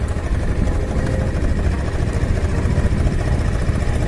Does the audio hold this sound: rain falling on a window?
no